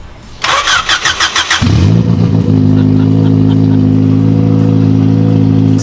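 A car with its exhaust system unbolted cranks over with several rapid starter pulses, then catches and settles into a loud, raw, steady idle close by.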